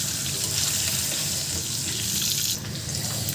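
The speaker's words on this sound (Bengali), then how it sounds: "ডিমটাকে ভেজে নিচ্ছি তেলের মধ্যেই" Eggs fry in hot oil with a steady, dense hiss and crackle that stays even and fairly loud throughout, with no talking.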